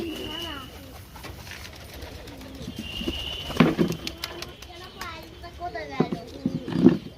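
Pigeons coo close by in soft, repeated calls, mixed with people talking and some scattered clattering and knocks around them.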